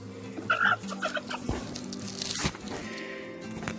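Chickens cluck close by near beehives, giving a few quick, bright clucks and short squawks over a low background of buzzing and faint movement.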